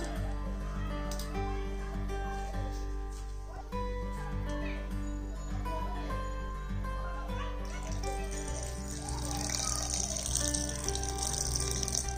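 A mixer grinder hums steadily while grinding batter for Bengali aske pitha, and a little water is poured in, adding a splashing, trickling layer over the motor whine near the end.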